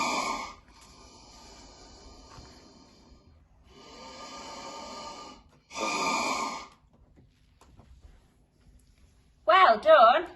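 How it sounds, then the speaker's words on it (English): A snake hisses in a few breathy bursts of varying length separated by short gaps, fairly faint and alone, with talk following at the end. "It's a snake."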